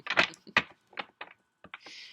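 A large, stiff deck of oracle cards that is awkward to handle is shuffled by hand, giving a quiet run of crisp, papery snaps and flicks in short uneven bursts, with brief pauses between them.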